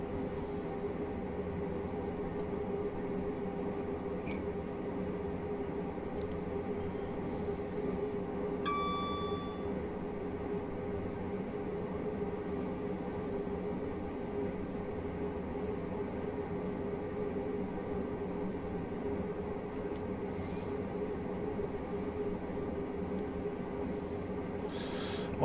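A Class 378/2 electric train in Train Simulator Classic runs between Chelmsford and Witham on the Shenfield to Braintree route, making a steady, even rolling drone throughout, with one short ding-like tone partway through and no voices.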